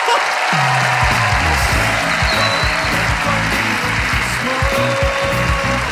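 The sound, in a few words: applause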